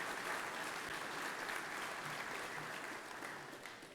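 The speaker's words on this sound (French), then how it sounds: "on les applaudit très fort" A concert audience claps loudly and continuously in thanks to a singer and musicians, a dense wash of applause that eases off slightly toward the end.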